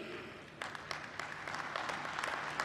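A round of applause from a convention audience at a union gathering in Chicago, starting thin and swelling into dense, sustained clapping that carries steadily to the end.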